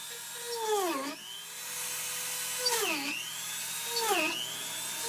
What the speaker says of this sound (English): use my Dremel with a small drill bit